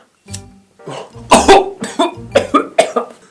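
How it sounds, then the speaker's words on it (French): A run of harsh, loud coughs close up, a couple of single coughs and then a rapid series of hacking bursts, with no talking. "Rien à foutre de la toux"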